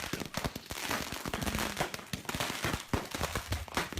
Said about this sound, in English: This is the type of fireworks, Jarett, that you wouldn't want to launch